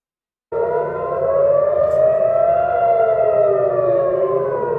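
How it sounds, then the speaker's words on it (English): A civil defense air raid siren wailing in Israel, starting abruptly and holding a loud, rising and falling multi-tone wail close by, with no voices. "Once the siren starts wailing, Israelis have about 13 minutes to get into a shelter"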